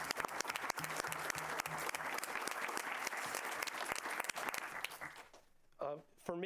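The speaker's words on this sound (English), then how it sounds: "I think that probably deserves a pretty big round of applause." A big round of applause fills a school board meeting, loud and sustained, dense clapping for an honored student athlete. It fades near the end, when a voice begins speaking.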